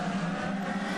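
IndyCar race cars at the 2011 Honda Indy Toronto street race accelerate out of a restart toward turn one, a steady high engine whine with a broad roar of several cars, no talk.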